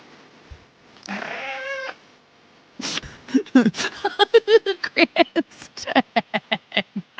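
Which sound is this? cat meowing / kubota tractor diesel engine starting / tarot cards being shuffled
cat meowing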